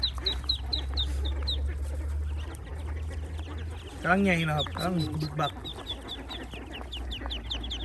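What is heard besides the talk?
ducklings peeping on a duck farm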